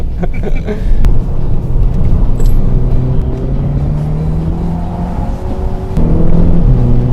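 An Audi TT roadster carries about 80 km/h into a corner, its engine a steady close rumble with rising and falling pitch as it drives through the bend, road noise underneath and no talk.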